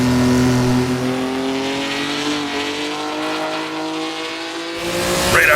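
Race car in the Assetto Corsa racing game with a 4-speed gearbox, engine note climbing through the gears, loud and steady, with rising harmonic sweeps and a brief sharp burst near the end.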